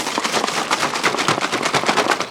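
Rapid rhythmic sloshing of water shaken hard inside a closed plastic milk bottle, a fast series of loud pulses filling the whole moment.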